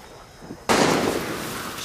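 Gunfire in the video game Far Cry 6: one sudden sharp burst, followed by a sustained noisy wash that stays loud until the end.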